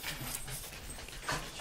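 An indoor dog pants in quick, breathy huffs and lets out a brief whimper, close and fairly quiet, with no talking.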